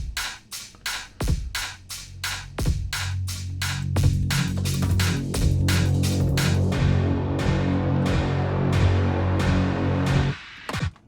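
Drums pound out a steady beat alongside a sustained synthesizer tone, with sharp repeated hits and a droning pad building up after a few seconds, loud and close with no talking.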